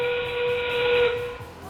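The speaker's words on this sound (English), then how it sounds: "we will hear the whistle sound and the end game begin" A sustained high whistle blows alone for nearly two seconds, signalling the start of end game at an FRC robotics match in an arena, steady and fairly loud with a slight hiss.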